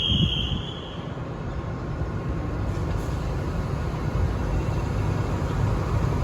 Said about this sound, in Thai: กำลังเข้าสู่สถานีรถไฟสุราษฎร์ธานีเลยนะครับ